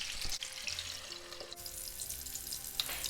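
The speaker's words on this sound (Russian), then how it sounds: "буду жарить опять минутки 2-3 с другой стороны." Steady sizzling and crackling of turkey liver patties frying in a pan, close up, with no talking.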